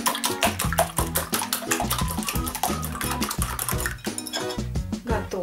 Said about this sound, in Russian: Теперь начинаем взбивать наши яйца